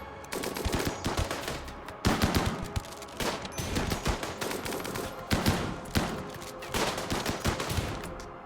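Rapid machine-gun fire from a RimWorld firefight rattles on continuously, with loud sustained volleys broken by a few brief gaps, dense and close with no talking.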